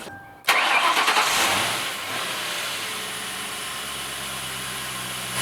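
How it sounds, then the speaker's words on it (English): Ford 4.6L V8 car engine turning over and catching after a short starter crank, then settling into a steady, loud, close idle that runs to the end. "now we're going to kick the car on again and make sure it doesn't leak"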